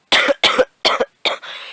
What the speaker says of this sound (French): C'est quand tu tousses beaucoup, quoi.